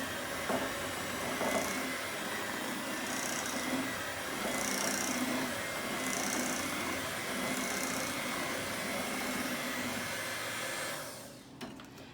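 An electric mixer creams pound cake batter with a steady, close whirring hum and a faint rhythmic scraping, running continuously before cutting off near the end.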